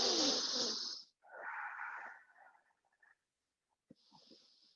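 Deep breaths taken while holding a yoga pose: a long airy inhale, then a softer exhale that trails off, a pause, and another faint breath starting near the end.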